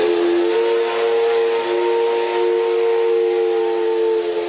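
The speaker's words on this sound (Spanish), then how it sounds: "por última vez se escuchó el silbato de una locomotora" A steam locomotive whistle at the Chimbacaya station in southern Quito sounds one loud, sustained, steady tone over a breathy hiss, close by for the whole stretch.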